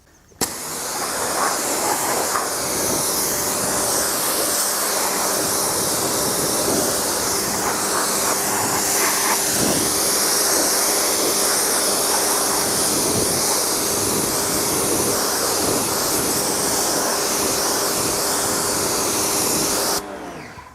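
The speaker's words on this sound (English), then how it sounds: "So I'm rinsing them." A loud, steady rush of water rinses rubber car floor mats during detailing, a continuous broadband spray with faint splashy texture lasting about twenty seconds, close to the listener and without any voices.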